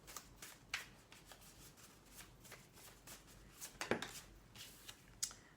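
Tarot cards are shuffled by hand in a series of quick, soft riffles and slaps, close and fairly quiet, with short pauses between bursts and no speech over them.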